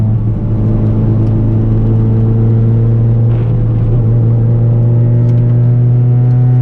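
A low-horsepower Honda CRX with worn motor mounts drones steadily while driving, a loud, constant engine hum with a deep rumbling undertone heard from inside the car.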